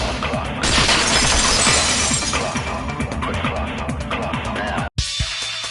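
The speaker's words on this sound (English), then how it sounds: "At the entrance hall, the girls heard the sound of the window shatter." A loud, sustained crash of breaking glass in the video game Danganronpa: Goodbye Despair, a bright, noisy smash that keeps ringing for several seconds before a sudden cut and a brief quieter tail.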